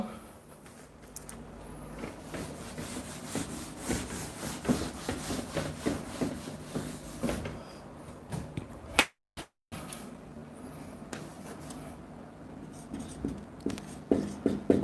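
Writing on a board during a chemistry lesson: a series of scratchy, rubbing strokes in short bursts, close and fairly quiet, with a brief gap partway through and faint speech at times.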